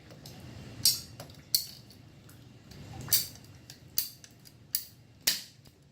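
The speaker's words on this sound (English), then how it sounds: "You're gonna need a pair of PVC cutters, simple, from Home Depot, 10 bucks, can't beat it. You cut the PVC pipe." PVC pipe is cut with hand-held PVC cutters, giving a series of about seven sharp, close snapping clicks spaced unevenly, with faint ratcheting and handling noise in between.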